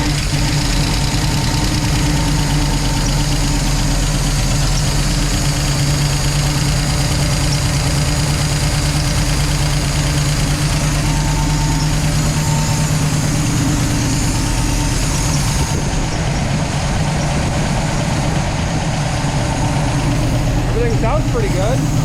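A car engine idles steadily after a rocker arm installation, with self-aligning rockers fitted, giving a constant low rumble with faint ticking throughout. People talk over it near the end.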